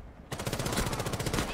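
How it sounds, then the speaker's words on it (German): Rapid automatic gunfire in a competitive Rainbow Six Siege match, a dense burst of shots starting abruptly and continuing steadily, loud and close. "Hier fallen auch schon direkt die ersten Schüsse in die richtige Richtung"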